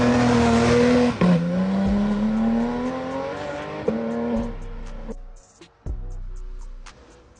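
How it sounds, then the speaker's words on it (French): A Porsche GT3 RS race car accelerating hard, its engine note climbing loud and close through several gear shifts before the revs drop away and fade near the end. "je vais vous mettre l'accélération de la GT3 RS."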